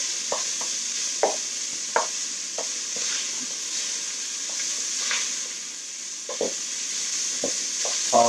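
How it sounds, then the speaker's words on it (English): Vegetables sizzle steadily in a hot pot, giving a constant frying hiss broken by scattered clacks of a spoon stirring and scraping, close and fairly loud, with no voices. "toss our taters in there and some stock, bay leaf"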